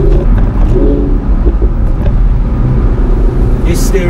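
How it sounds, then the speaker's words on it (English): A 2018 Audi R8 V10 Spyder engine, mounted just behind the cabin, drones loud and close from inside the moving car, a steady low rumble with road noise, under someone talking. "you can hear the full sound of the car. The engine's right behind me here."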